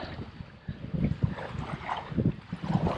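Gusty wind at a lakeside campground beach buffets the microphone in uneven rumbling surges, loud and close with no other clear sounds.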